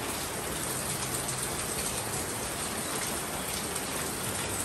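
Rain starting to fall outdoors, a dense, even hiss of drops pattering on surfaces that stays steady and fairly loud throughout, with no voices.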